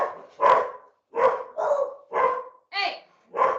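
A dog barks outside in a steady series of about six loud, evenly spaced barks, close to the microphone, with no talk over them.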